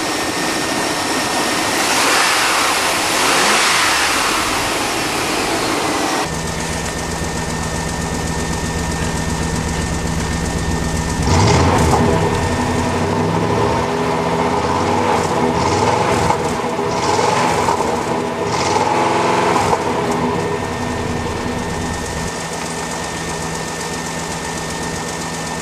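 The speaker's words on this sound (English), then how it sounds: "Let's give it a couple more revs." A Chevrolet Silverado truck engine runs after a cold start, a steady rough idle that swells into several loud revs in the middle, with a knocking, vibrating rumble close to the microphone.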